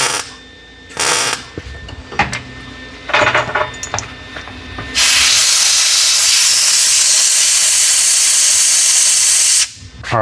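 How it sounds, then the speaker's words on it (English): An air hose blows on a part to cool it, starting with short loud bursts mixed with handling clatter, then a long, steady, close hiss lasting several seconds before it cuts off. "I was cooling it off with the air hose"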